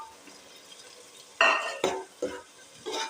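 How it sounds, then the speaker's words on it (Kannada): Tomato paste made from five tomatoes fries in a pan for chicken dum biryani, with a soft steady sizzle broken by four loud scraping stirs of a utensil against the pan, close up. "ಅದು ಚೆನ್ನಾಗಿ ಫ್ರೈ ಆಗಬೇಕು."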